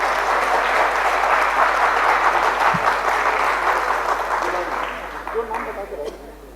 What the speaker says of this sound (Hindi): उनका आप तालियों से खैर मकदम करते रहें